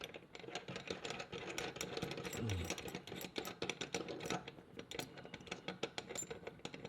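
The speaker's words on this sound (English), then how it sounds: "Let's just go ahead and disassemble this. It's very easy. We're going to back off the screws." Screws being backed off to take apart an ACCUCraft front and rear pistol sight pusher tool, with a run of sharp, close metallic clicks and small tool rattles repeating irregularly through the stretch.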